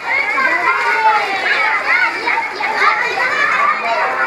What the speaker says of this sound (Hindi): ये देखें पानी में बच्चे खेल रहे हैं।